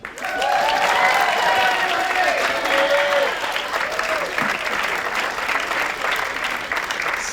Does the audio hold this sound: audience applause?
yes